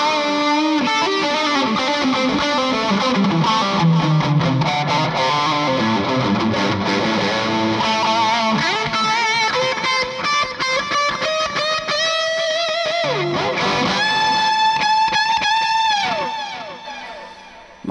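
Electric guitar through a MOOER GE300 with distortion, delay and reverb plays a continuous loud run of chords and melodic lines, ending on sustained notes that ring out and fade.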